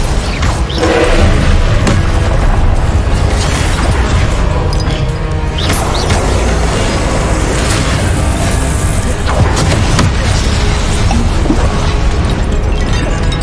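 In Hogwarts Legacy, a Confringo blasting spell goes off in loud, continuous explosive booms and crashes amid the dense roar of combat in the game.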